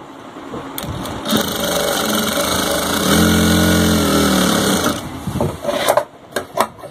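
A sewing machine stitching cloth for wrestling shorts, a steady mechanical whirring run for a few seconds that stops, followed by a few light clicks and handling knocks.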